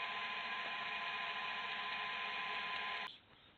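An electric motor on a Skyscreen hub build test runs with a steady, even whine for about three seconds, then cuts off abruptly and leaves a quiet residual hum.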